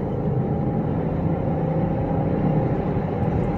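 Steady, fairly loud cabin drone and low rumble from a 2003 BMW X5 4.6iS engine under acceleration, an even continuous engine note with no clear gear-change breaks and no voices.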